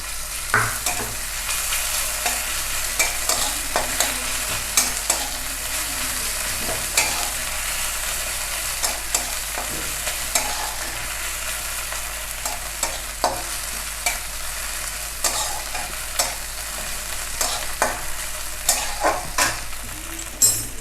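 Straw mushrooms fry in a pan with a steady, dense sizzle that fills the whole stretch, broken by frequent scraping and clacking as they are stirred, close and continuous with no talking.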